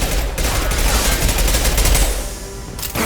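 Loud, sustained automatic gunfire in Mass Effect 2, a dense rattling barrage of close shots running almost unbroken from start to finish.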